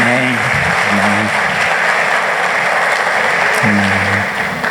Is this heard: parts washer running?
no